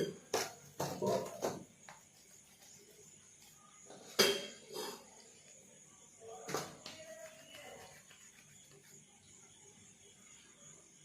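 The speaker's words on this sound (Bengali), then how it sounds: "এরপরে লেচিগুলো কেটে নেব" A knife cuts through lychees on a plate with several sharp clicks and taps against the dish, loudest in the first seconds and again around the middle, then quieter scraping and faint handling sounds.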